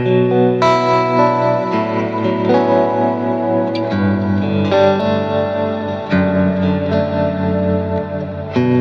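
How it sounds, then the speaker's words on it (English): Clean electric guitar through an amp modeler with lush reverb, playing sustained chords and melodic phrases that ring out and blend, steady and full for the whole passage with no talking. "that's a nice reverb clean tone"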